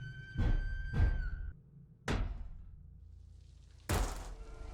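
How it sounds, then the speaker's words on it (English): Heavy banging on a door in the video game MiSide: four loud, close thuds in an irregular rhythm, the first two coming quickly together, then two more spaced further apart, with a low hum between them. "the banging sounds on the door doesn't feel right"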